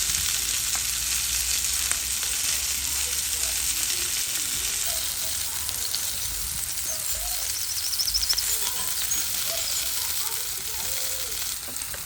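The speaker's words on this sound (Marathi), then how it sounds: "आता आमी सुंगटां भाजून काडया." Prawns frying in a cast iron frying pan give a loud, continuous sizzle and hiss, with faint voices in the background.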